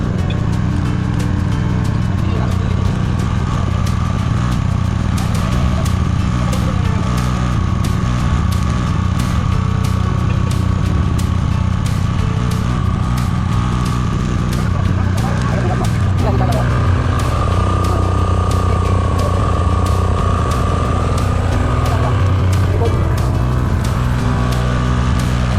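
A Daiden 10 kVA generator drones steadily and loudly while powering a heavy-duty welding machine, with a constant engine hum and buzzing throughout as people talk over it.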